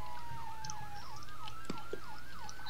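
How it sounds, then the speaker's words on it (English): A video game fire engine runs its siren, a loud continuous wailing tone sweeping up and down in a regular rhythm, with a few short clicks and blips over the top. "you have your lights and sirens on"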